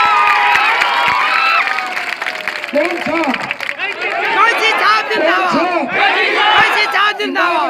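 A dense crowd at a Bihar election rally roars and claps together, the noise loud and sustained throughout with excited shouts and chatter rising over it.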